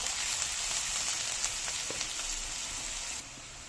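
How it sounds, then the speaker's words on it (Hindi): Onions sizzle and fry in a pan over a low-to-medium flame for baby onion sabji, a steady close hiss with faint stirring crackles throughout and no talk. "और इसी के साथ अब हम इसमें डाल देंगे प्याज, और स्लो टू मीडियम फ्लेम पर हम इसको भूनेंगे।"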